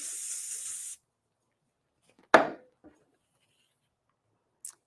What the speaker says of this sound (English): So let's do a little bit more Pro Spray.